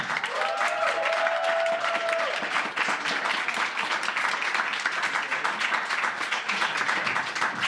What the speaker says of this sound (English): By round of applause, who thought Frank did a better job?